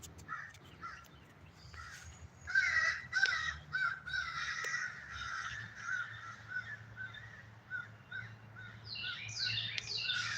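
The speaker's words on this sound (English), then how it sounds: "The crows. The crows are telling on me so hard." Crows caw repeatedly from the woods, a string of harsh calls in irregular bursts, moderately near, over a quiet outdoor background with no talk.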